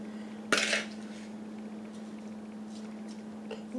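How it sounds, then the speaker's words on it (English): A spoon clinks once against a dish while scooping cooked apples onto a sheet of puff pastry, followed by a few soft, faint scrapes over a quiet kitchen hum. "what I'm going to do is just spoon some of these apples right in the center of this sheet"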